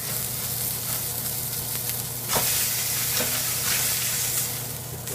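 A ribeye steak fries in a hot pan with butter, giving a loud, steady sizzle throughout, with a sharper burst of crackling partway through and brief spatters near the end.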